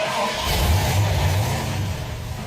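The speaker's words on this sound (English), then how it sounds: "Let's fire this thing up." An old Jeep J3000 truck engine cranks and catches, rumbling and revving loudly nearby with a rough, uneven growl.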